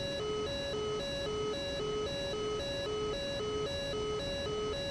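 A cockpit warning alarm in the DCS flight simulator sounds while the wheel chocks are still on, a two-tone electronic beep alternating in a steady, even rhythm, loud and clear with a low hum beneath.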